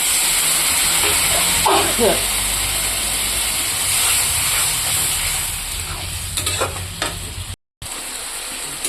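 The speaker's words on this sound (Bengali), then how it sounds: "আমি এটাতে অল্প জল দিয়ে দেবো, জল দিয়ে একটু ফুটাবো" Sizzling and hissing as a little water is added to hot fried masala and tomatoes in a pan, with stirring scrapes and a brief burst of steam, heard loud and close.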